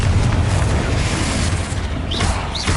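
A Confringo blasting spell explodes in Hogwarts Legacy, a loud, sustained rumbling boom that fills the clip with dense low-end roar, and two brief rising whooshes come near the end.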